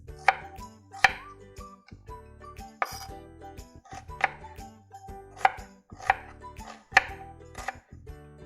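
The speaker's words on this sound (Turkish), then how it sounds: "Şimdi doğrama işlemine geçiyoruz." A knife chops vegetables for lentil soup on a board in regular, sharp thuds, about one per second, close and clear with no talking.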